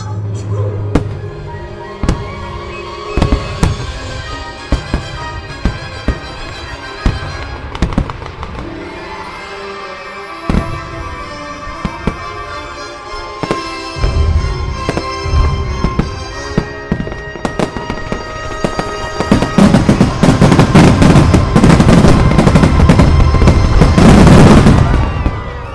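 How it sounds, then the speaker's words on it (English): A Disney fireworks show, Magic Music and Mayhem, sends out sharp bangs and crackling bursts over a musical soundtrack, building to a dense, loud barrage of rapid pops and booms in the finale. "that was the Magic Music and Mayhem Fireworks Spectacular Show"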